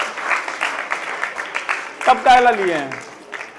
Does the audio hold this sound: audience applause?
yes